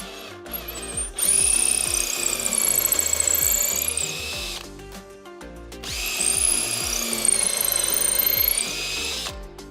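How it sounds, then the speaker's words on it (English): A power drill bores through the wooden body of a guitar in two separate passes, each with a rising whine and grinding, separated by a short pause. "So simply just drill both sides."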